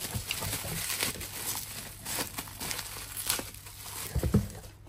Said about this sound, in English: I get this tape off.